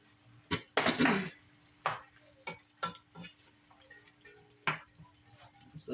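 Sloppy joe meat mixture with Worcestershire sauce and salt cooking in a pan, with intermittent sizzling bursts and clicks of a utensil against the pan, fairly close with quiet gaps between.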